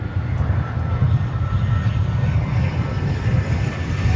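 Airliner taxiing on the ground at DFW Airport, a steady, loud low engine rumble that holds even across the whole stretch with no clear rise or fall.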